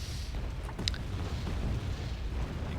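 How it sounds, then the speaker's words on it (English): Artillery explosions in the video game Wargame AirLand Battle, low rumbling booms with a brief sharper crack, fairly quiet and distant over a continuous noisy battlefield background. "a couple of artillery shots coming in from us as well"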